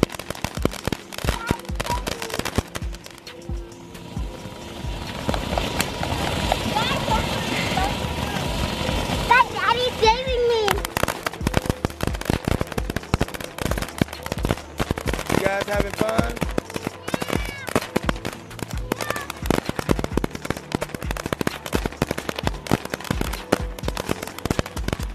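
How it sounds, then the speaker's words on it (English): Fourth of July firecrackers explode in long rapid crackling bursts, dense and loud, with voices talking and shouting in between. "more firecrackers"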